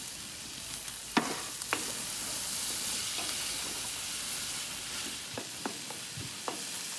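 Vegetable paella with shiitake and other mushrooms simmering in a pan on an outdoor grill, giving a steady soft sizzle and hiss broken by a few sharp clinks of stirring near the start and end.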